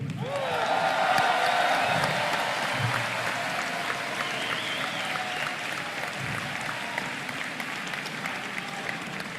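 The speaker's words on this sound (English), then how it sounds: "The crowd just went wild." A large audience at the 2017 Rubik's Cube World Championship 3x3 final in Paris bursts into sustained applause, dense clapping with scattered whoops and cheers that swells early and then holds steady throughout.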